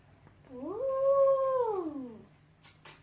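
A cat gives one long, drawn-out meow that rises and falls like a caterwaul, moderately close, followed by a couple of short faint noises.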